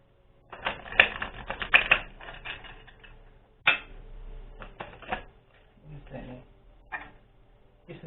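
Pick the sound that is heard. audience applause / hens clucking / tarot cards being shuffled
tarot cards being shuffled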